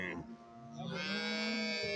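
Cattle at a weekly cattle and buffalo market, where milking cows stand, let out a close, loud, drawn-out moo that rises in pitch and holds steady against a busy background.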